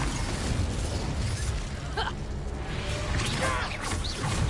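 A Confringo fire spell in the Hogwarts Legacy video game bursts in a loud explosion with whooshing crackle, set within a constant roaring battle din where brief voice-like sounds surface.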